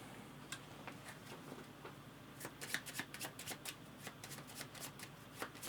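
Playing cards being shuffled during a two-player tabletop game of Hands in the Sea, heard as a run of quick crisp riffling flutters over a quiet room, growing denser and louder in the second half.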